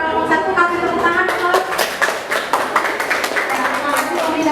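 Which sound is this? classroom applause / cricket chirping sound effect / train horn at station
classroom applause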